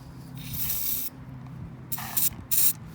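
Short bursts of Carb Clean carburetor cleaner sprayed on a John Deere JS60 carburetor: one longer hissing spray followed by two quick shorter bursts, close up, no talking.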